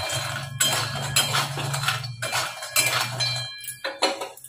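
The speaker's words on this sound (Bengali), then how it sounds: "জানেন তো তেলে না একটু নাড়লে বড়িগুলো ভালো লাগবে না" Lentil bori being stirred as it fries in oil in a pan, with repeated metallic scrapes and clinks of a utensil against the pan over a steady low hum, loud and close.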